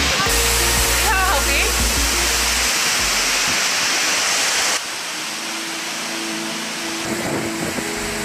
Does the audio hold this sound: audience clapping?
no